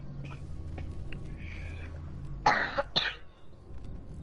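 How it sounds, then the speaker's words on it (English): A couple of sharp coughs close to the microphone, following quieter background murmur. "I'm coughing."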